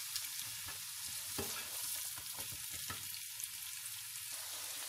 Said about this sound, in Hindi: प्याज को हल्का सा ब्राउन करेंगे।